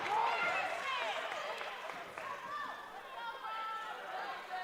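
A basketball crowd in a gym reacts to player Matt Lane with steady murmuring chatter and scattered shouts, a moderate continuous hubbub of many voices.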